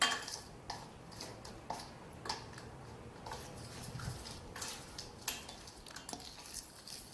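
A spoon stirs wet chapati dough in large circles in a bowl, making soft, steady knocks and scrapes that repeat roughly every half second, with no talking.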